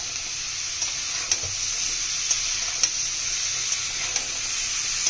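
Washed pumpkin pieces fry in a pan with a steady, fairly loud sizzle and hiss. A few faint ticks of a spoon stirring break through now and then.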